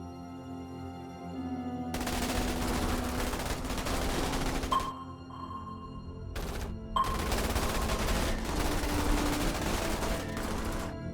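Sustained rifle fire from infantry squads in the Starship Troopers: Terran Command strategy game, dense overlapping bursts across two long stretches with a short lull between, loud and continuous with no talk.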